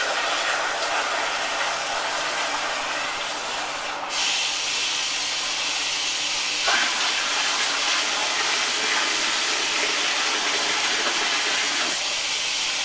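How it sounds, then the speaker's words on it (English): Cold water pours steadily into a home brew beer fermenter for a Coopers IPA kit, a loud, continuous hissing rush that shifts in tone as the level rises, with no talk over it. "it's about 30 degrees, so I'll keep adding cold water"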